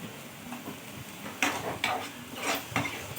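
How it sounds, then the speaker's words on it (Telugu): Goat brain fry being stirred with salt and turmeric in a pan, several scraping and clinking strokes of a spoon over a soft background sizzle, close and without speech. "పసుపు కూడా ఒక సగం స్పూన్ పసుపు వేసుకొని కలుపుకుందాము"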